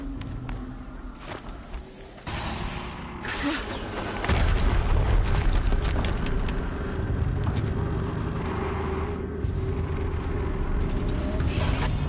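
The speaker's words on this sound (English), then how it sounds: "Another explosion." Explosions and heavy booms erupt in a sci-fi combat video game, with several sharp impacts early on, then a louder sustained rumbling blast from about four seconds onward that stays strong to the end.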